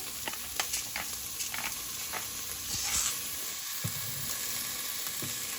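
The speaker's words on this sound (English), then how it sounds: "Just going to saute this for a couple minutes." Vegetables and garlic sauté in a pan for cabbage soup, giving a steady close sizzle with scattered clicks and scrapes as they are stirred. No one speaks over it.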